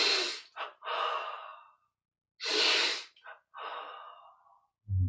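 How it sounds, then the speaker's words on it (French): Slow, loud breaths in and out through the nose and mouth come in two cycles during a seated neck exercise, close to the listener and with no other sounds. "Et expire, on relâche."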